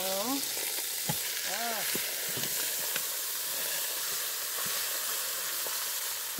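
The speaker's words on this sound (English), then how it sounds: "We got some nice browning going on here." Beef pot roast browns in a hot pan with a steady sizzling hiss, and a few stirring scrapes and clinks come close up over it, with no talking.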